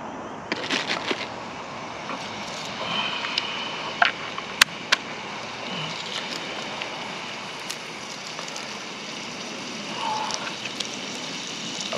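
Chopped onion frying in olive oil in a pan makes a steady, close crackling sizzle with a few sharp pops and clicks throughout.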